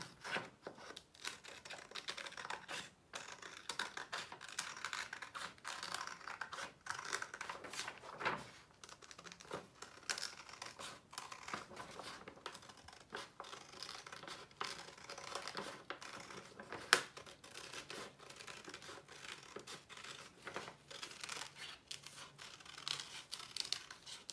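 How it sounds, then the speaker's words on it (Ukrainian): Scissors cut two circles from sheets of paper for an appliqué craft, a quiet run of soft snipping and rustling paper with no talk. "І зразу з двох аркушів, нам потрібно два таких круга, я вирізаю два круга."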